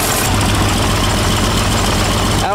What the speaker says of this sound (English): Turning engine, like 1800 RPMs full out,